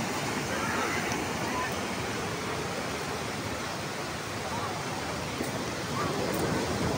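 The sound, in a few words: big ocean waves at San Fabian beach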